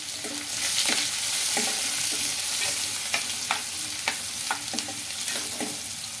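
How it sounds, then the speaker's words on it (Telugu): Chopped onions fry in a pan with bay leaf, cinnamon and star anise, giving a steady close hiss and sizzle broken by scraping stirs that come every second or so. "ఇది మనకు ఆనియన్స్ బాగా ఫ్రై కావాలండి, గోల్డెన్ కలర్లో రావాలి"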